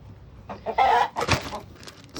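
Backyard chickens cluck and squawk in a coop in a few short, close bursts, with no talking.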